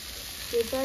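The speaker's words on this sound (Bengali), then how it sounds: "ভেজে রাখা আলুগুলো দিই, জিরের গুঁড়ো দেবো, এরপরে ভেজে রাখা চিংড়ি মাছগুলো দিয়ে দেবো।" Fried potatoes, ground cumin and fried prawns go into a hot pan for a home-style Bengali dish, giving a steady close sizzle with a small stirring bump near the end.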